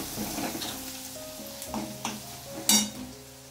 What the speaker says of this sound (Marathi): इकडं आपली लाल लाल फोडणी रंगते तेलामध्ये.